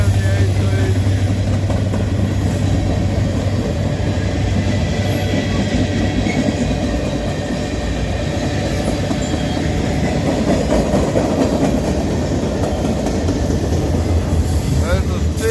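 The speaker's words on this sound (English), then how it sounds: "But this train, I believe, heads up to Tennessee, they say." Freight train rolling past on rails with continuous wheel clatter and metallic squeal, loud and close throughout, steady with no letup.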